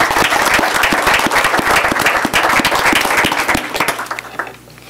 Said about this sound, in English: Can we give them a big round of applause, everyone?